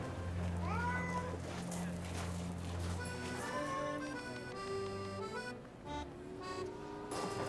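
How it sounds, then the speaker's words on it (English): A white cat meows several times in a rising, drawn-out voice, close and clear, while people talk over it and music plays underneath. "a white kitty cat"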